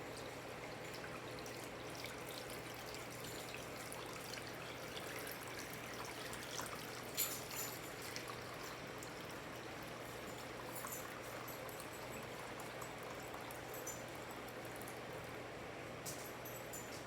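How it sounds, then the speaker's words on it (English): Water is poured into a crème brûlée water bath, a soft, steady trickle and stream running faintly throughout with no voices. "Now we're going to add our water bath."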